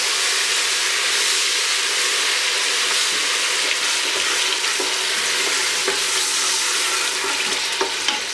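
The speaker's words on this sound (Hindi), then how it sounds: "इसको अच्छे से फ्राई कर लें हाई फ्लेम पर" Onions and tomatoes fry in a pan over a high flame, giving a steady, loud, close sizzle and hiss with faint crackles throughout and no talking.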